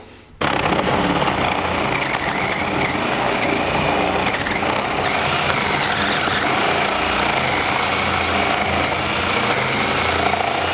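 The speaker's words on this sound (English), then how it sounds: "just simply drill your hole in the crosshairs that you made" A power drill bores a hole through wood for a bird house, kicking in abruptly after a brief quiet moment and then running loud, close and steady with a high whining buzz until the end.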